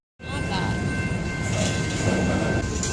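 A train passes close by, its rumble and rail noise running steady and loud for nearly three seconds straight after a sudden onset.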